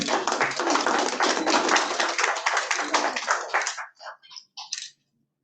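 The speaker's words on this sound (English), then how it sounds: "Round of applause, ladies and gentlemen." Applause from the audience at a hybrid webinar on solar energy, steady clapping from a group for several seconds, then tapering to a few scattered claps before silence.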